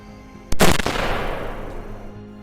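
One sharp, loud .308 caliber rifle shot with a 180 grain bullet, fired at night at a wild boar, cracks close by and then rolls off into a long, fading echo.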